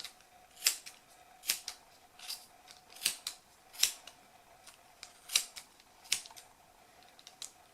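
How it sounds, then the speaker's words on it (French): Sharp scissor snips with pointed scissors cutting a wool pompom, about ten of them at an uneven, unhurried pace, close up in a quiet room. "avec des ciseaux pointus, vous allez tout simplement couper dans la fente"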